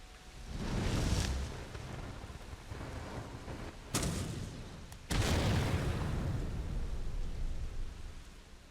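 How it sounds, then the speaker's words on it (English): A magic scroll sets off a large explosion in Skyrim, heard as a deep booming blast with rumbling, followed by further sharp bursts and a heavy roar that trails off. "that is actually a much bigger explosion than I anticipated"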